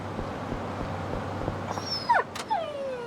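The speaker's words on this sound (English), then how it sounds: "There's a dog." A dog whimpers and yips in the video game Yakuza 5, a few high, sliding whines near the end over a quiet, steady low hum.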